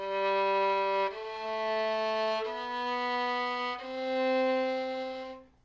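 Four violin notes on a rising scale played détaché, each bowed separately with a clear break between strokes, sustained and resonant, close and alone without talk.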